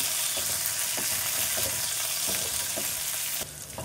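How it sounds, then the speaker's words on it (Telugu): Green chillies and coriander stems fry in hot oil with a steady, fairly loud sizzle and crackle, a few soft stirring knocks through it, easing slightly near the end. "ఇలా పచ్చిమిర్చి మనకు కొంచెం ఫ్రై అయ్యాయి కదా"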